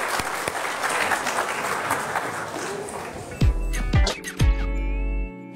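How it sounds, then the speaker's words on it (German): A studio audience at a German talk show applauds steadily and loudly for several seconds before the clapping breaks off into a few louder thumps and a low hum. "Applaus für Sie"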